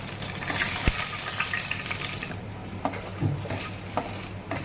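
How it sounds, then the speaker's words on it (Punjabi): Red chilies sizzle as they fry in oil in a pan while dosa chutney is made at home, a steady crackle with occasional stirring clinks and small pops. "ਹੁਣ ਆਪਾਂ ਪਾਵਾਂਗੇ ਇਹਦੇ ਵਿੱਚ ਲਾਲ ਮਿਰਚ ਤਿੰਨ ਆਪਾਂ ਲਾਲ ਮਿਰਚ ਪਾਉਂਦੇ ਪਏ"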